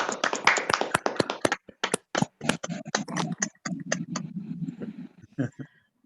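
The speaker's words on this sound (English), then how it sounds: "can we all come off mute and just give all of our speakers and our musician a round of applause" Online meeting participants clapping off mute for a Sunday gathering, sharp close-miked claps from several people at uneven rhythms, tapering into scattered hits with a voice talking underneath.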